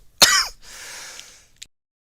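A single sharp cough from a sick person, then a drawn-out raspy throat clearing and a brief final rasp, close up with no talking.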